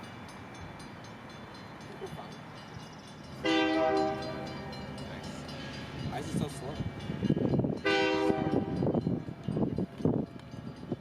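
The Napa Valley lunchtime express passenger train on the Fourth of July, its horn sounding two long harmonic blasts over steady rail rumble, with people talking nearby.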